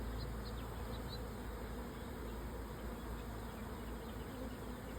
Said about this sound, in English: This is one of the better parts of beekeeping, swarm catching.